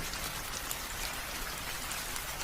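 Steady rainfall in a cartoon scene, a continuous even patter of drops with no talk, ending in a sudden louder burst at the very end.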